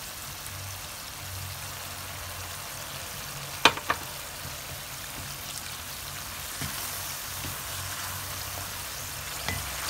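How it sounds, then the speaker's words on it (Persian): A spiced mixture with turmeric and black pepper sizzling in a frying pan, a steady crackle under a few sharp clinks and scrapes of stirring, with no talk. "کامل با هم مخلوط میکنیم"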